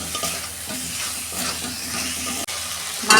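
Chicken simmering in a pan for a Bengali chicken kosha, a steady loud sizzle and hiss with stirring scrapes, close and continuous, with one sharp click near the end and no voices.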